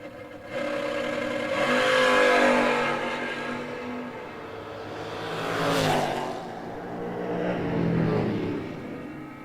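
A blue Camaro and a Chevy 2 launch in a drag race, their V8 engines roaring up through the gears, loud and rising and falling in waves as the cars pass at a distance.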